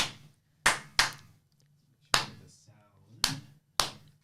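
Sharp hand claps, six in all, spaced unevenly and loud against a quiet room, with soft talking faintly audible between them.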